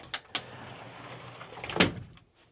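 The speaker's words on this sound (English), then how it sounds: "This does close with a louvered door, give some privacy." A louvered wooden locker door in the cabin of a vintage Chris-Craft boat closes with a couple of light knocks and a faint slide, ending in a sharper clack, quiet and close.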